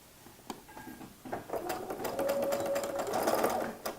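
A sewing machine back stitching a coin purse seam, the needle chattering steadily and then running faster in a dense, close whirr, with no talk over it.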